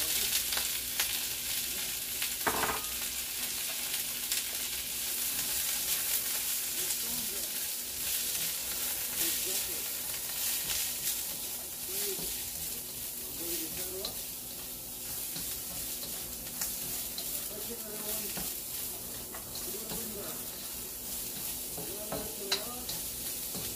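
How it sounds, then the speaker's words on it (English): Carrots sautéing in a pan for a homemade yaki-soba give a steady close sizzle, with scraping stir strokes and light clinks running through it and no talk. "Saute the carrots."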